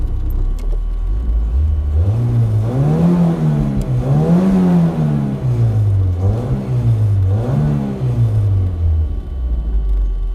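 A drift car engine warms up with repeated revs, rising and falling in slow, even waves over a steady low idle, loud and close.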